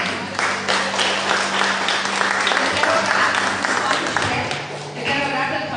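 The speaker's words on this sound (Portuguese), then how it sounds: "dá uma salva de palmas para o Espírito Santo de Deus" A church congregation applauds the Holy Spirit during a service, with sustained, loud, dense clapping from many people for several seconds and a low hum underneath.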